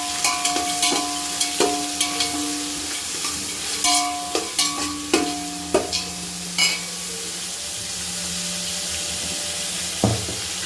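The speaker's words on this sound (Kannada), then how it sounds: "ಸೊ ಅಷ್ಟನ್ನು ಹಾಕಿ ಮತ್ತೆ ಒಂದು 2 ಮಿನಿಟ್ಸ್ ಕಲರ್ ಚೇಂಜ್ ಆಗೋವರೆಗೂ ಫ್ರೈ ಮಾಡ್ಕೋಬೇಕು" Chopped onions frying in hot oil in a pan for mushroom biryani, a constant sizzle broken by sharp clanks and scrapes of a spoon stirring against the metal, close and fairly loud, with no voices.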